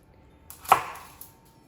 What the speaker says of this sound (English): We're going to bash up some garlic, 2 cloves of garlic.